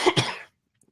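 Two quick, close coughs in a row, loud and abrupt, followed by near silence with a couple of faint small clicks.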